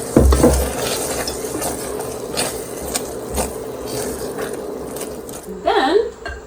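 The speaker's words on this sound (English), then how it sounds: "we can stir in the fresh berries" Fresh Saskatoon berries being stirred into a thickened tart filling, a steady wet scraping and churning close up, with a voice briefly heard near the end.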